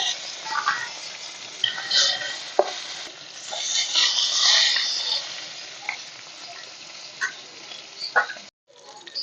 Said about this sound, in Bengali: প্রথমে মাছগুলো ভেজে নেব তার জন্য তো কড়াই দিয়ে দিয়েছি সর্ষের তেল